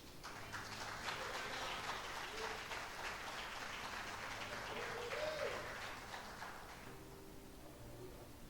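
A church congregation applauds during a sermon, steady massed clapping that sounds faint and distant, fading out in the last couple of seconds.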